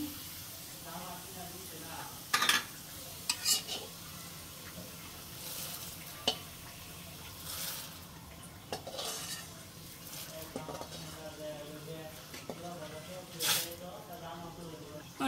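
Onions sizzle steadily in a pan while a utensil stirs and scrapes, with occasional metallic clinks against the pan's side.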